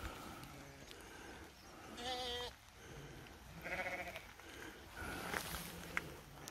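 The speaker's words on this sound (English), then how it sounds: "We got sheep, we got a lot of sheep." Several sheep bleat in short, separate calls, some near and some farther off, on a farm path in Great Langdale in the Lake District, with quiet footsteps and a calm outdoor background between the calls.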